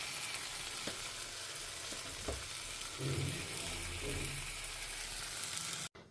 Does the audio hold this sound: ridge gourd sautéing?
yes